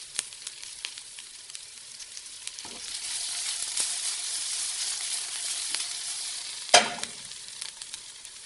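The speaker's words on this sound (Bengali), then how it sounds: "প্যানে তেল দিয়ে সেই তেলে মাছটা ভেজে নিতে হবে।" Small fish sizzle in oil in a pan, a soft steady hiss swelling midway, punctuated by light stirring scrapes and one sharp clink of a utensil.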